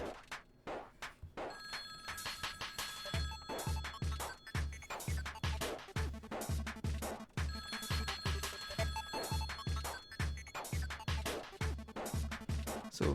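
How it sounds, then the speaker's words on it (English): A telephone rings in repeated bursts of bright trilling tones over a steady beat of background music, loud and continuous with no talk. "Someone answer the phone."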